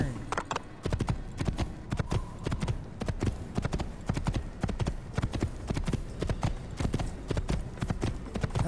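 Horse hooves clip-clop steadily at a quick pace in an Assassin's Creed game, loud and close, with a faint voice now and then underneath.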